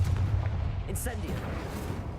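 Incendio fire spell cast in the Hogwarts Legacy video game, a heavy booming whoosh with low rumble at the start and a brief bright crackle in the middle, close and fairly loud.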